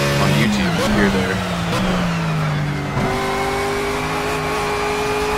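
BMW Z4 GT3 race car in Project CARS at Bathurst's Mount Panorama, its engine revving and shifting through gears with a steady, loud drone that rises and falls, heard close under a talking voice.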